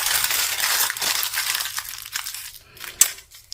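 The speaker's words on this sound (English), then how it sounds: "Simple crumpling technique." Paper being crumpled by hand into a tight walnut-sized ball as a core for paper clay, close crackling and crinkling bursts that thin out and end with a sharp crunch.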